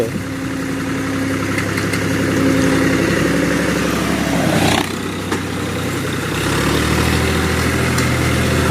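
A farm vehicle engine idles and runs steadily during field ploughing, a loud continuous low rumble that swells and eases slightly, with no talking.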